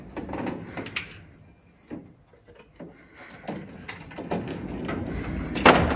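Metal toolbox drawers, including a hammer drawer, slide open and shut several times in irregular bursts, with clunks and rattling contents, close by and moderately loud.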